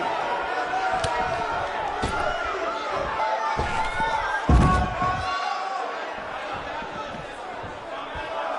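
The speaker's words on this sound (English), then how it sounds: "We have a sold-out, record-setting crowd here for BCW tonight." Virtual arena crowd from the wrestling game WWE 2K19, a steady dense roar of cheering with a few sharp slams and thuds cutting through, loudest around the middle.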